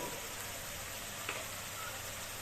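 Dal lentils sautéed in a pan with turmeric and salt, a soft continuous sizzle and frying hiss, faint and steady over a short stretch.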